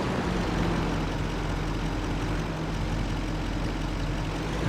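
Steady low rumble of a tractor engine running in Farming Simulator 25, a continuous droning hum at even loudness with no talk.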